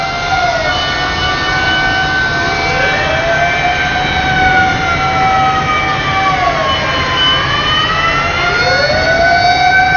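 A fire engine siren wails loud and close, its rising and falling tones sweeping continuously through the whole stretch over a low engine rumble, with no talk.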